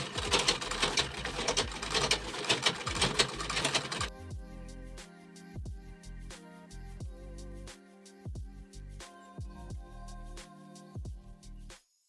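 A sewing machine back-stitches along a bag zipper, starting with a dense continuous whir, then breaking into short bursts of rapid stitching separated by brief pauses.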